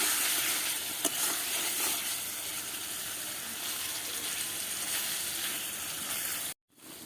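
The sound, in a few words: stirring eggplant curry frying in pan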